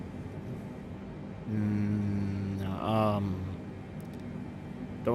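A strange altitude alert horn sounds in the cockpit of a 747-8 in Microsoft Flight Simulator. It is a steady two-tone electronic blare of about two seconds, with a brief warbling rise near the end, over a constant background hum.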